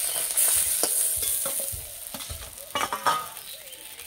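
A fish head fries in hot oil with a continuous bright sizzle, broken by several scraping stirs and clinks of a spatula in the pan, close and fairly loud with no talking.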